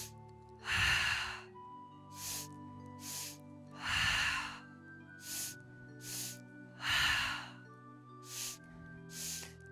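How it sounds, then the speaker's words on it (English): A person doing a Pilates breathing exercise takes two quick breaths in, then exhales once short and once long, the pattern repeating as close, soft breaths with quiet gaps between. "We breathe in twice, short and long breath out."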